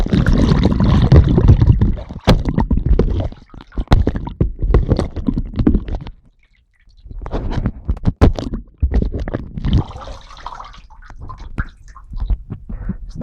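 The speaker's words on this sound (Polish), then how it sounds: "staram się rzucać telefonem z wysokości około, myślę, 30 cm do wody." Samsung Galaxy Note 3 in a PURO waterproof case repeatedly dropped about 30 cm into bathtub water: a series of loud splashes and sloshing with sharp knocks, pausing briefly near the middle before more splashing.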